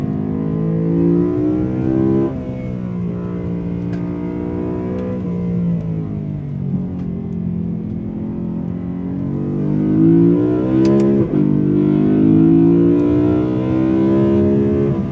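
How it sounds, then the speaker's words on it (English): BMW E92 M3 V8 heard from inside while driving, loud and close, its engine note rising and falling through repeated accelerations and gear changes, with a strong climb near the end and no talking. "I just can't get over the sound of this motor. Such a beautiful noise."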